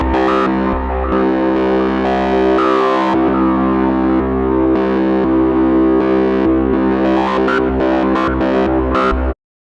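A modular synth voice with a sample and hold circuit, its level swept by a slow LFO and its rate driven by a smooth random voltage, plays a dense, distorted, stepping tone for several seconds before cutting off.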